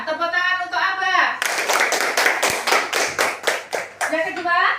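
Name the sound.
classroom children clapping for a student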